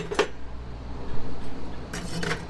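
Metal pieces of a wood gas stove clink and scrape together during assembly, a few sharp bright taps near the start and end with quieter handling rustle between, close and fairly quiet.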